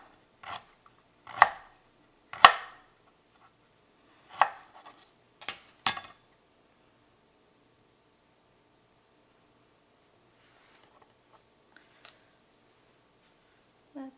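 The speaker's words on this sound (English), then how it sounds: "And I'm just going to slice this" Cranberries are sliced finely with a knife in a handful of sharp, separate cuts against a board, spaced over the first six seconds, then near silence with a few faint ticks.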